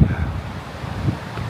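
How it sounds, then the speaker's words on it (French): Strong wind buffets the microphone outdoors by a lake in Corsica, with low gusty rumbles that swell and ease over a brief stretch, no voices heard. "Ça va, c'est le vent quoi."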